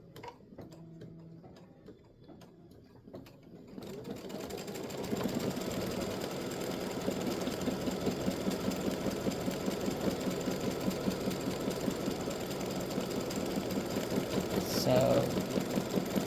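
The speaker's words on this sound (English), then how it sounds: "And now for the satin stitching and the loop." An embroidery sewing machine satin stitches free-standing lace bat earrings, its rapid steady mechanical ticking starting after a few seconds of quiet handling and running continuously at close range.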